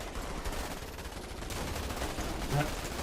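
Troopers fire guns in Starship Troopers: Terran Command, busy rattling bursts of gunfire crackling steadily at middle distance across a battlefield din.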